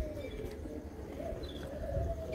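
A pet pigeon coos softly nearby, a few low throaty calls over a quiet background hum, no voices.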